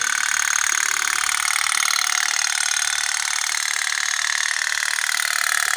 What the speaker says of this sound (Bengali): সাকিবের মেলা থেকে কিনে আনা নৌকাটা, মানে স্পিড বোটটা কি সুন্দর এই গামলার জলে চলছে